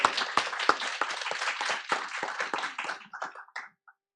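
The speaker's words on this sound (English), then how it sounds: "one more round of applause for these two guys" Audience applause at a school district board meeting, a burst of clapping from a roomful of people that thins out and tapers into a few scattered claps before stopping.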